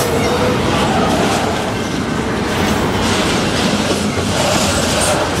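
CN freight train passing on the Halton Subdivision, loud continuous rolling roar with rhythmic wheel clatter and some squeal, close by and sustained throughout.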